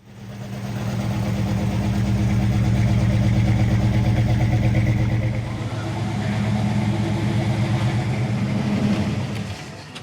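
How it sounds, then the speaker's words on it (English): A classic car's engine idles high, a loud steady low rumble running continuously nearby with a slight dip midway, alone with no talk. "Oh, this one idles really high."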